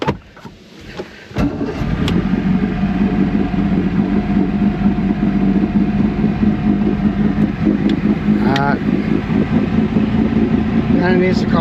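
A 1996 Force 120hp outboard motor in need of a carburetor job runs steadily after starting, a loud continuous engine drone throughout, with people talking over it.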